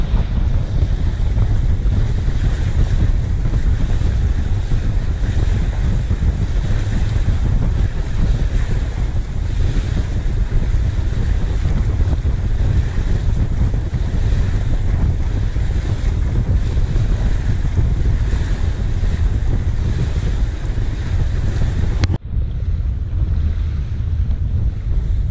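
A sailboat under way in strong wind and rough waves, with a constant loud roar of wind buffeting the microphone and rushing water throughout, briefly dipping just before the end.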